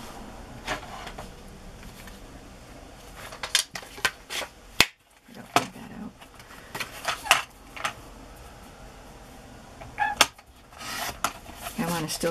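Paper film strip being trimmed for a craft journal, with quiet scattered snips and rubbing, rasping handling noises at close range in an otherwise calm room, without talk.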